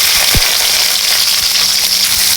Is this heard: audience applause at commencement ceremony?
no